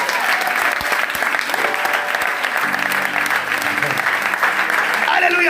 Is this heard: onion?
no